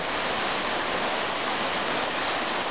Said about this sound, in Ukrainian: Це наша річка